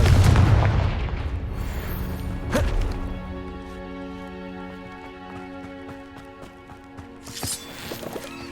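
Confringo blasting spell explosions in Hogwarts Legacy, a loud burst at the start followed by sharp impacts, a lingering ringing decay with tonal game music, then another bright crack near the end.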